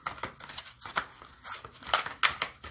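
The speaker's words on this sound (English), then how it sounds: "So I'm going to see if I can shuffle them." A deck of oracle cards is shuffled by hand in a few quick, soft riffling and rustling bursts, close and fairly quiet, with no talk.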